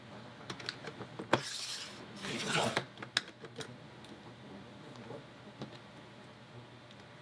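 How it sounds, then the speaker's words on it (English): A paper edge is trimmed straight for a scrapbook layout, with a couple of brief scraping cutting strokes among small clicks and handling noises, close and fairly quiet. "So I'm going to line this up and make it straight so that I can trim."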